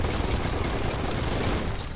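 Gunfire in the video game Biomutant: a dense, rapid fusillade of shots blending into a continuous rattling burst, loud and sustained across the whole stretch.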